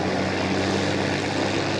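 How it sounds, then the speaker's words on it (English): Propeller airplane engine droning loud and steady at close range, a continuous unbroken roar with no voices over it. "There is your plane, Jason."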